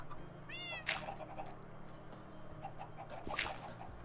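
A Minecraft cat meows twice, short and close, roughly three seconds apart, over a quiet low background hum in the game.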